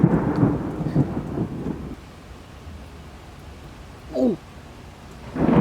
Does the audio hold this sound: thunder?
yes